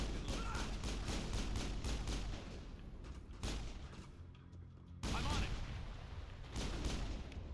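Dense gunfight in the video game Mass Effect, with continuous rapid weapon fire and booming impacts. The fire is loud and close, rising and falling in bursts with brief lulls between volleys.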